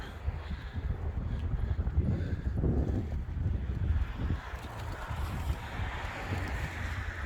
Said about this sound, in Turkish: Rüzgar da var.